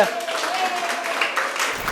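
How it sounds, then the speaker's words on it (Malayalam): An audience claps steadily in a dense, even patter, with a voice speaking over it. "അതിന് വലിയൊരു കൈയടി കൊടുക്കേ"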